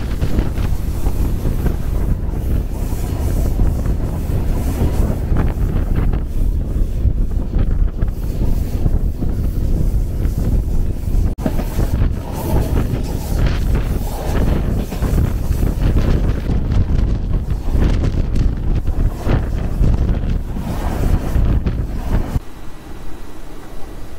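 The Madhumati Express in Bangladesh, with its new coaches, runs past Nimtala station and climbs onto an elevated track, making a loud, continuous rumbling roar with wind-like rushing throughout and a slight dip near the end.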